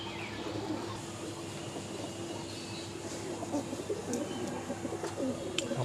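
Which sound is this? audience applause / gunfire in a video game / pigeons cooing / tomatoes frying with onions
pigeons cooing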